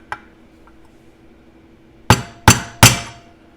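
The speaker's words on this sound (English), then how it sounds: "tap the seal into the casting" A seal tapped into the casting of a Porter-Cable 7724 portable bandsaw during a rebuild: after a faint tick, three sharp, ringing metallic taps come close together near the end against a quiet room.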